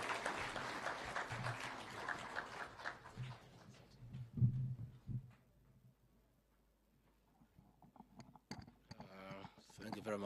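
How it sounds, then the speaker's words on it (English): A crowd applauds the Deputy President at the Nairobi City Railway groundbreaking ceremony in Kenya. The dense clapping fades into near silence over several seconds, and a voice begins speaking at the end. "Can we have a round of applause for the Deputy President?"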